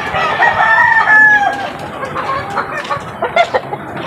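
Asil gamefowl and hens cluck close by as a rooster crows loudly at the start, followed by scattered clucks and short calls.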